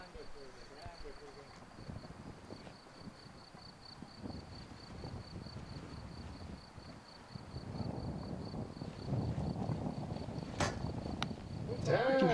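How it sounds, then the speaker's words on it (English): Wind buffets the stadium microphones at an outdoor compound archery World Cup final in Lausanne, a low rumbling gust that builds toward the end. A steady high electronic whine runs underneath, and sharp clacks sound near the finish. "We can hear the wind, can't we, in the microphones in the stadium there"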